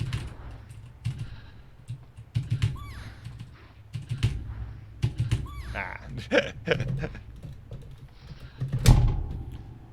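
Computer keyboard keys clatter as a fighting game is played, with rapid bursts of clicks and presses over a game's background sounds and occasional talk.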